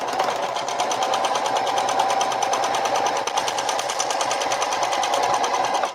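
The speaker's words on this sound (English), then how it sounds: "I'm going to stitch along the short edge" A sewing machine stitches along the short edge of a tote bag, a fast, even mechanical chatter that runs steadily for several seconds before stopping abruptly.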